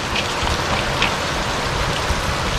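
Heavy rain pours steadily just outside a door, a dense, even hiss of drops hitting surfaces that stays close and loud throughout with no voices.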